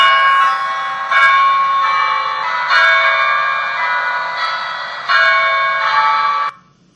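Church bells of St Clement's in the City of London ring loudly and close, several strong clangs spaced about a second or more apart, each with a long humming decay, before cutting off abruptly near the end.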